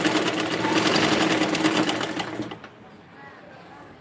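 An electric sewing machine stitches a dress, a loud, fast rhythmic whirring run close up that slows and stops after about two and a half seconds, followed by quiet handling.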